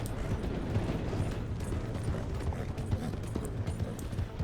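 Horse hooves clip-clopping in Red Dead Redemption 2, a soft, steady trotting patter under a low rumbling game background, moderately close and fairly quiet.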